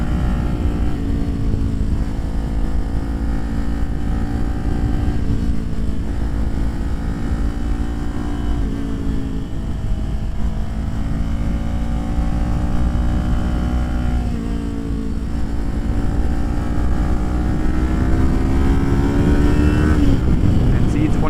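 Kawasaki Ninja 400 engine carrying steadily through mountain twisties on Palomar Mountain, a continuous loud drone with rising and falling pitch as the throttle is eased on and off through the bends, mixed with wind rush.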